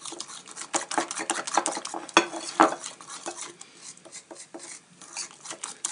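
Batter for chicken being mixed in a bowl, with a steady run of soft scraping and stirring strokes and light clinks against the dish, close and moderately quiet, with no talking.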